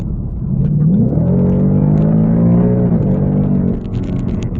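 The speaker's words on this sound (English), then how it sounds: "It shifts so smooth, like it's just like one gear, boom, into the other" A 2018 Ford Mustang 5.0 V8 with a 10-speed automatic accelerates hard, its loud, steady engine drone rising in pitch and dropping quickly through several gear shifts, with no talking over it.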